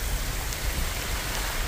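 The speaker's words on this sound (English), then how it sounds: "Rain out of nowhere." Sudden rain pours down in the mountains, a steady, full hiss of drops striking surfaces, fairly close and unbroken, with no talk.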